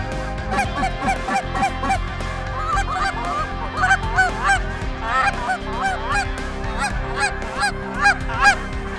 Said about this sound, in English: In a lot of these groups of geese, you're going to see snows and Canadas mixed.